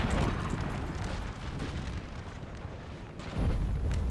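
Cannon and artillery fire in a Napoleonic Total War 3 4v4 battle, heard as a dense, continuous roar of overlapping booms and rumbling blasts, loud throughout with a fresh surge near the end.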